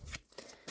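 Tarot cards are shuffled and drawn in a few quick, soft riffling bursts, close and faint, with no talk.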